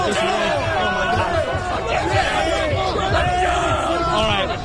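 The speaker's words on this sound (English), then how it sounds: "crowd was getting a little bit overexcited" An overexcited crowd on Howard Avenue roars and cheers nonstop, a dense wall of shouting, whooping voices close by and loud throughout.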